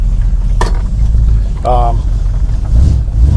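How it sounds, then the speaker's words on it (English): A 1973 Dodge Swinger idles on a test drive, a low steady engine rumble heard up close while someone talks over it. "So let's take it for a test drive and see what happens."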